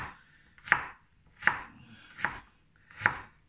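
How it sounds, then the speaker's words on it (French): Knife chopping peeled carrots into small cubes on a board, four sharp, evenly spaced chops standing out clearly against a quiet background. "les carottes, on va les couper en petits cubes"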